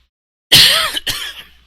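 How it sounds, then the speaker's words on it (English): A single harsh throat clearing or cough, close and loud, in two quick bursts after a moment of silence. "I got a cough again"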